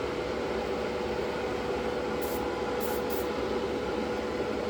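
Steady broadband hiss of an aerosol or airbrush laying dark gray paint onto parts of a 1/535 scale Atlantis USS Iowa model, continuous and even throughout with a few faint high ticks and no voices.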